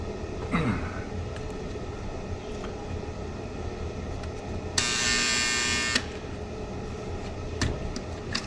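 A power tool drones steadily in the background, then a magnetic drill's loud buzzing motor bursts on for about a second before cutting out again, during frame repair on a Chevy stepside truck.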